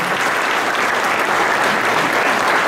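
A crowd at an outdoor rally in defence of life and health applauds loudly and continuously, a dense, even wash of clapping close to the listener.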